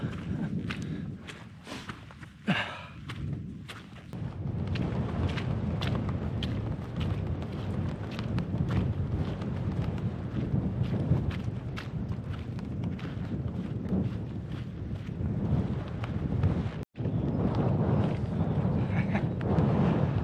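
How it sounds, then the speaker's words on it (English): Strong, cold wind roars steadily against the microphone for the whole stretch on an exposed ridge on the Isle of Skye, with rustling and a few sharp knocks. "Very windy and the wind is cold."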